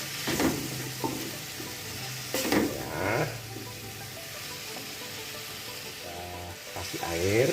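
Patin fish being sautéed in olive oil in a pan, a low steady sizzle under intermittent scraping and clinks of stirring utensils, moderately close.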